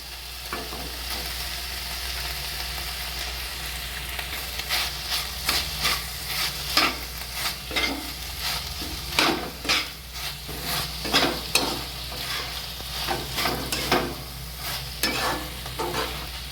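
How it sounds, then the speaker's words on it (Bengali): Chicken stuffing with mayonnaise and chili flakes cooking in a pan, a soft continuous sizzle under repeated scraping and stirring strokes of a utensil, close and fairly quiet, with no talk. "মেয়োনিজ দিয়ে কিছুক্ষণ রান্না করে নিলাম"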